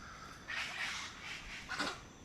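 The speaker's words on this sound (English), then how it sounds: "some big old birds just flew right by. I'm not sure what they are, but they're squawking up a storm over there." Large birds squawk loudly as they fly past over the Colombian countryside near Medellín, two harsh raucous bursts of calls over faint background noise.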